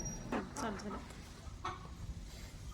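Hens cluck softly and intermittently, close by, with a person talking over them.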